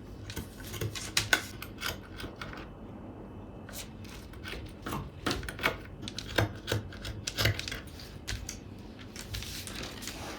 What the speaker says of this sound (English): My fabric scissors, I'm just going to go ahead and cut out.